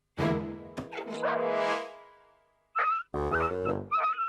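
Small yappy cartoon dog, a roquet in an animated children's show, giving a long stretched yelping howl followed by several sharp, high, shrill yaps, loud and close.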